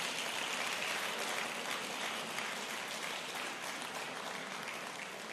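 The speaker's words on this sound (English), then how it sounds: "give the planning committee a resounding round of applause" Conference audience applauding the planning committee, with a sustained wash of many hands clapping at a steady level and no talking over it.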